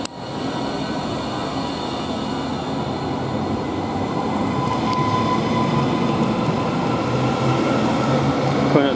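TransPennine Express Class 397 train departing Carlisle station, a steady rumble and hum of the electric unit gradually building in loudness as it pulls away, with a faint whine and a few light clicks of wheels on track.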